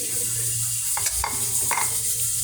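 Bagoong, a fermented shrimp paste, sautéing in a pan after tomatoes, with a steady close sizzle, low stove hum and a few soft stirring scrapes.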